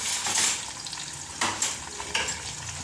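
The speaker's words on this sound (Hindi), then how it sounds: "तो अब मैं इसमें ना लहसुन अदरक का पेस्ट डालूंगी।" Garlic-ginger paste frying in a pan for palak gosht, a close, steady sizzle broken by a few sharp scrapes and clinks of a spoon stirring against the metal.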